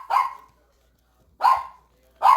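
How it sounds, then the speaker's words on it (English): A pet dog named Coco gives three sharp, separate barks, close and loud, with quiet pauses between them. "That's your dog barking?"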